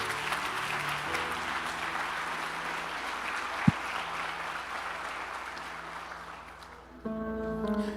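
A church congregation claps together, a sustained dense applause that fades slightly toward the end, with music or organ tones underneath and one sharp knock midway.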